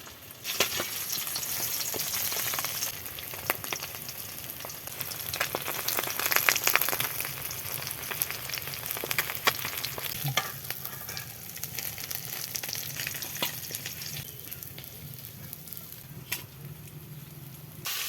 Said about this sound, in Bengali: বাকি মাছগুলো ভেজে নিচ্ছি।